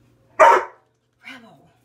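A dog barks nearby, one loud sharp bark followed by a softer, lower second bark after a short pause; no talk.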